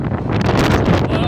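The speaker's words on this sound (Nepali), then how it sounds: "लास्टै हावा चलेको छ गाइस" Strong wind buffets a phone microphone outdoors on a long walk, producing a continuous loud, close rumbling roar with rapid gusty fluctuations.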